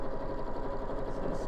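Sewing machine stitching a pocket down onto fabric, a steady close motor whir with fast even needle pulses, and a voice speaking over it.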